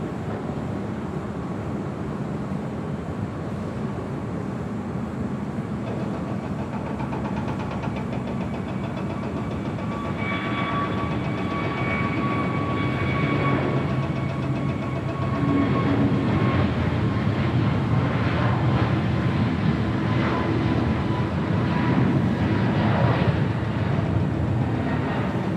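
An airliner takes off down runway 25 right at Los Angeles International Airport, its jet engines a steady, distant roar that swells and thickens over the long roll, with faint whining tones rising midway.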